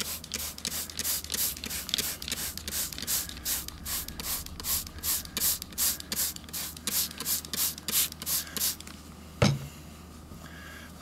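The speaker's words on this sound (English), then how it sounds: "You spray it on." A pump spray bottle applies carpet coffee-stain remover mixed with water, giving about twenty quick, even hissing bursts in a steady rhythm close by. A single thud follows near the end, then quiet.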